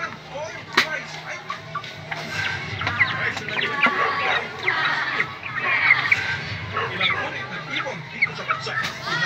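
Chickens clucking and squawking busily at feeding time, close by and continuous, with a person's voice talking now and then beneath the flock.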